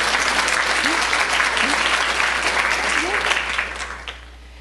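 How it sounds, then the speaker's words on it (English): Educators in an audience applaud together in a loud, dense wash of clapping with scattered cheers, sustained for about four seconds before tapering off near the end. "give yourself a round of applause"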